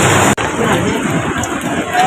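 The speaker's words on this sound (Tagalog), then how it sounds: "Malakas pa rin ang ulan." Heavy rain falls at a construction site, a loud, dense and steady hiss that fills the whole clip without a break.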